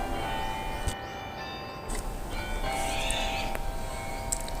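A church bell ringing: sustained tonal strikes hang in a long, resonant decay, fairly faint and distant.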